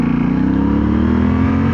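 Yamaha Tenere 700 World Raid motorcycle engine pulling under acceleration, a loud, steady low growl with rising pitch held close for the whole stretch, no talk over it.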